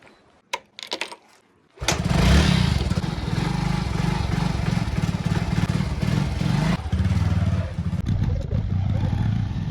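A motorbike ride begins after a few faint knocks and a short pause, the engine catching and then running loud and steady with a rough mechanical rumble for most of the stretch, no talk over it.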